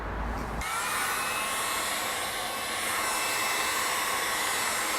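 Heat gun blowing hot air onto vinyl wrap on a Dodge Charger's driver's side fender, switching on after a brief pause and holding a steady, close, breathy whoosh throughout.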